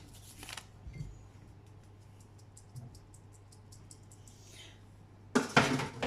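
Madeleine batter with white chocolate and freshly added baking powder is gently mixed in a bowl, giving faint, scattered light clinks and scrapes over a quiet room, ending in a brief louder clatter.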